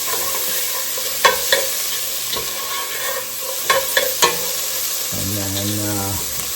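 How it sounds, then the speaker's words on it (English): Sliced onions sizzle and fry steadily in a pan as a utensil scrapes and stirs them in several sharp strokes, with a brief spoken phrase near the end. "after a few minutes of cook time on the onions, just to get them going"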